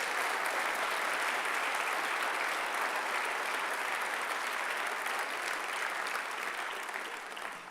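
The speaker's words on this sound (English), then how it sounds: "Let's give him a round of applause." A large audience applauding at a Liberal Democrat party conference, dense continuous clapping sustained at full strength before tapering off near the end.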